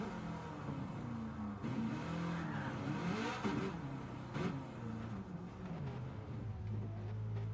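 A car engine in Gran Turismo 7 blipping and rising in pitch during downshifts, moderately loud and continuous as revs swing up and down, ending in a low steady idle.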